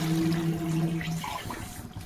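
Water pours steadily into a pot of spiced country-chicken curry (natu kodi pulusu) in a home kitchen, a continuous close splashing and gurgling flow with a low steady hum beneath.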